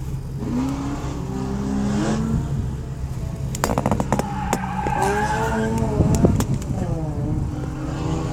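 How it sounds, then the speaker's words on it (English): A cheap camera pivot mount inside a Nissan 370Z Nismo at an SCCA autocross in Grand Forks, North Dakota, gives a quick cluster of sharp clicks. They sound over the car's engine hum while a voice speaks. "Sorry about all the clicking. This pivot isn't very good."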